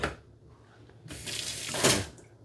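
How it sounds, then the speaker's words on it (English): A pull-out kitchen faucet in a Wildwood Heritage Glen RV runs water into the sink in a short hissing burst that swells and then stops, close by, with no talk. "Your faucet does come out."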